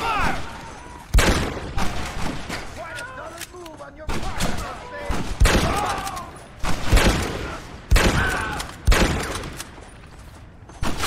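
Shootout gunfire in Red Dead Redemption: loud, sharp individual shots cracking at irregular intervals, some in quick pairs, while people shout and talk between the blasts.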